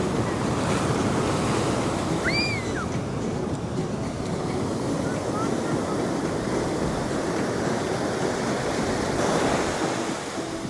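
Ocean surf rolls in steadily on a beach along the first coast, a continuous loud wash of breaking waves mixed with wind buffeting the microphone.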